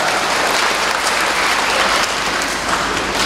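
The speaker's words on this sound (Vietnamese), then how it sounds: "Chúng ta đồng tràng pháo tay chúc mừng." A congregation at Easter Sunday Mass claps loudly and continuously, a close, dense wash of many hands filling the church without pause.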